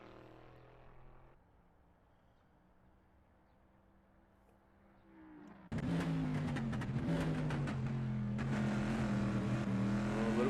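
A Sin R1 race car in a GT4 racing game at Imola comes in loud and close partway through with a steady, high revving engine drone that shifts in pitch through the corners. Before it arrives there is a quieter, lower engine hum.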